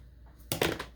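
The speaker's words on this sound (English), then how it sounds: "I'm going to go ahead and cut the excess zipper bottom off" A short, sharp snip of scissors cutting through the excess bottom of a zipper, with a crisp rustle right after, close up in a quiet room.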